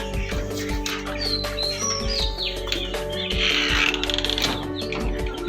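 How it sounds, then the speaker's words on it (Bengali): Chicken and duck chicks in a brooding room: many high, close chirps and peeps overlap constantly over a steady background hum, busy and loud throughout. "পাশের রুমে আমি রেখেছি মুরগি এবং হাঁসের বাচ্চা"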